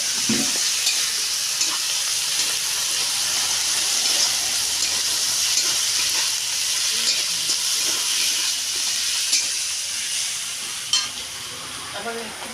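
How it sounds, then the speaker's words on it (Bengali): Turmeric powder and chopped tomato fry in a pan and are stirred. A steady, loud sizzle hisses continuously close by, with occasional scraping stirs and no talking. "হলুদ গুঁড়ো, টমাটো কুচি সব দিয়ে ভালো করে নেড়ে নিচ্ছি।"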